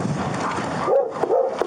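A dog barks from inside a house in Boardman, Oregon. There are a few sharp, mid-distance barks and yips near the end of the short stretch, following muffled background sound.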